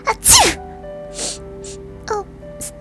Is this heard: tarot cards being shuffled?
no